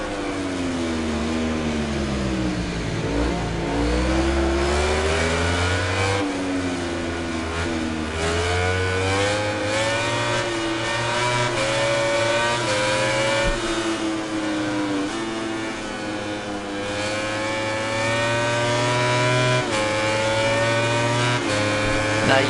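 Racing motorcycle engines in the MotoGP 19 video game: a continuous loud, high-pitched whine that rises and falls through gear changes, with several bikes close together and a voice talking underneath at times.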